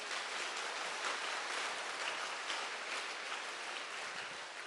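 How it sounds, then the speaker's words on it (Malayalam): Congregation clapping hands in praise during a Malayalam church talk, a dense, steady wash of many hands clapping together without a break, fairly loud and even throughout. "ഒന്ന് കൈയടിച്ച് കർത്താവിനെ മഹത്വപ്പെടുത്തു"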